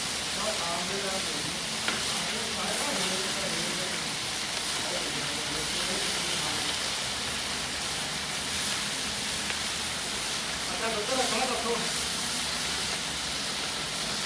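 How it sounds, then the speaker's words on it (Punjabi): Garden cress bhurji fries in a pan while being stirred and mixed, a steady close sizzle and hiss with soft scraping, under a voice talking at intervals. "ਤੇ ਹੁਣ ਆਪਾਂ ਇਹਨੂੰ ਕਰ ਦਈਏ ਚੰਗੀ ਤਰ੍ਹਾਂ ਮਿਕਸ"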